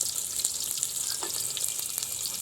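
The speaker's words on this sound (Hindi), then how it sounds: "पर ये घी जो है वो गर्म हो गया। अब इसमें प्याज डालेंगे।" Chopped onions frying in hot ghee in a pan over a wood-fired clay stove (chulha), a steady bright sizzle with scattered crackles and pops throughout, close and alone.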